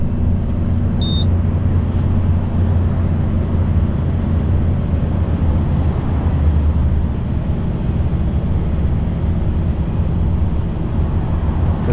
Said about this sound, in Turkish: Şu an retarder sesi var zaten arabada